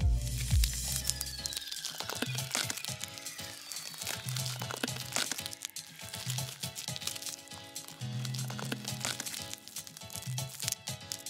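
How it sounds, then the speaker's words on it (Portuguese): Orange cherry slime being kneaded by hand, giving a steady run of close, wet crinkling and squelching crackles with rhythmic pulses throughout. "Vamos amassá-lo bem."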